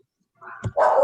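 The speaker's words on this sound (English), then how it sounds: "her pup piped in" A single short, sharp bark from a pet dog bursts close to a microphone on a webinar call, abrupt after near silence.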